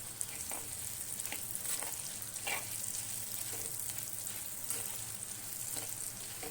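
Onions and chillies sautéing with salt in a pan, a steady close sizzle with scattered crackles and occasional stirring scrapes throughout, no voices.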